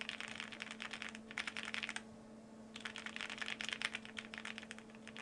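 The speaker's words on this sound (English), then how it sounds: "let me do another typing test, and I'll try for accuracy this time" Rapid typing on a Thera 75 custom mechanical keyboard during a typing test, a steady close stream of keystrokes that pauses for about a second midway and then resumes, with a faint hum underneath.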